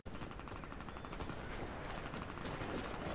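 Gunfire in the video game Warface, a dense, continuous stream of rapid automatic shots at steady loudness, close and unbroken for a few seconds.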